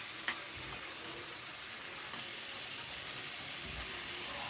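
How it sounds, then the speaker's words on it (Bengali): Chicken pieces frying in oil over a medium-high flame while being stirred continuously, a soft, even sizzle with a few faint clicks of the spoon against the pan. "এবার মিনিট 2 আমি চিকেনটাকে একটু তেলের সাথে ফ্রাই করে নেব। অনবরত কিন্তু নাড়তে হবে।"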